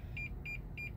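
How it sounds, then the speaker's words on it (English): A car's parking sensor gives three short, evenly spaced proximity beeps over a low engine and road rumble, clear and close up. "if I kinda get to where I'm gonna get close to something, you'll get a little beep"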